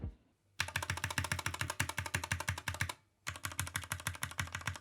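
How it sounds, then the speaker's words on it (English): Rapid, even keystrokes clack on an Anne Pro 2 mechanical keyboard with spray-lubed switches and lubed stabilizers, in two bursts separated by a short pause, close and clear with a deep, muted tone. "Spray lubing changes are pretty subtle, but definitely give the keys a deeper sound"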